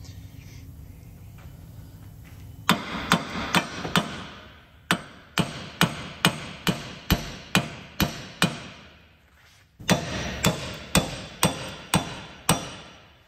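Rear wheel bearing on an MK3 Ford Focus being driven out with a hammer: a series of sharp metallic blows in steady rhythm, loud and close, briefly pausing before resuming, with no talking.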